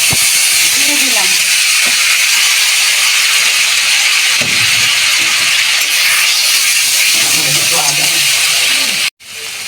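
Spice paste with nigella seeds, mustard, curry leaves and green chilli frying in hot oil for a fish curry, a steady loud hiss and sizzle running throughout with faint voices and stirring clinks, cutting off briefly near the end.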